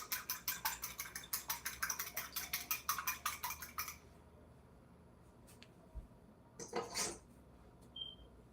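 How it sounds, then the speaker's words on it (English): An egg being beaten in a bowl with a utensil for egg wash, quick rhythmic clinking taps for about four seconds, followed by quieter scattered kitchen clatter. "So I'm just beating the egg now to make the egg wash"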